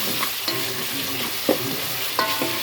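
A spoonful of paste sizzles in hot oil while being stirred, ahead of mint and tomatoes for a rice dish. A continuous frying crackle runs throughout, broken by several firm, close scraping strokes of the spoon against the pan.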